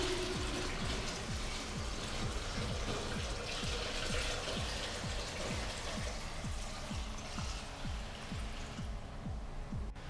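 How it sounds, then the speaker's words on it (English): Water runs steadily into the water container of a Lelit espresso machine, a continuous close splashing pour with a faint rhythmic pulsing underneath, with no talk. "Fill the water container."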